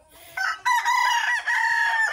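A rooster crows up close, a native chicken in a Filipino backyard flock where some birds are tied up; one loud, drawn-out call rises and holds with a brief dip midway, with no voices over it.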